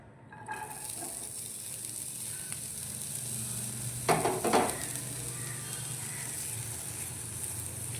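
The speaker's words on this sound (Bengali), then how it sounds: "এখানে কড়াইতে আমি 1 চামচ সাদা তেল দিয়েছি। এবার আমি ভেজিটেবলসগুলো হালকা সটে করে" Vegetables sautéing in a spoonful of white oil in a wok give a steady, close hiss of frying, with a brief burst of stirring clatter midway and no talk.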